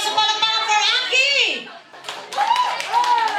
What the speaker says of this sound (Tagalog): Malakas na palakpak for Aki!